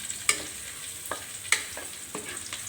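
Garlic sizzling in a very hot pan while stir-frying adobong sitaw, a steady close crackle with a few sharp clinks of a utensil against the pan, no talk.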